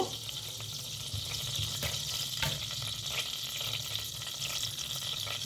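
Cumin and mustard seeds sizzle in a few spoons of hot oil with a dense, steady crackle that holds close and even throughout.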